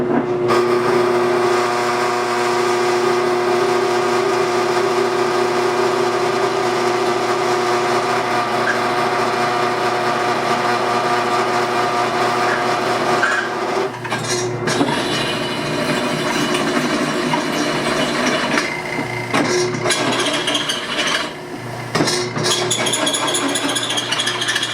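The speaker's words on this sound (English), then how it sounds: "Now we're back to our 1/2 inch drill bit that we used on our wood earlier, going through the same piece of steel" A Harbor Freight 10-inch drill press runs steadily with a whining motor hum, then grinds and chatters as a 1/2 inch bit bites dry into steel, loud and continuous.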